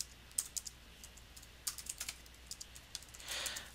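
Quiet typing on a computer keyboard, a few scattered keystrokes in short bursts with pauses between, close and soft, with no voices.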